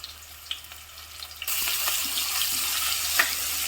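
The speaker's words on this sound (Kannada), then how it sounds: "ಆಯಿಲ್ ಬಿಸಿ ಆದಮೇಲೆ ಒಂದು ಆನಿಯನ್ ಹಾಕೋತೀನಿ, ಚಿಕ್ಕದು." A small onion goes into hot oil for a mutton sambar and starts frying partway through: a quiet stretch with a few clicks gives way to a steady, fairly loud broadband sizzle that continues to the end, with no talking.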